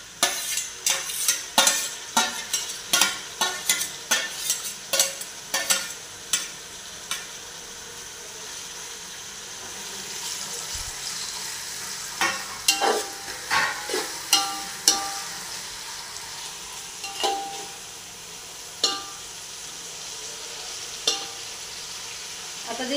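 Tomatoes stirred into softened onions frying in a pan for matar pulao, giving a continuous sizzle with a quick run of loud spoon scrapes and knocks early on, then sparser stirring strokes later.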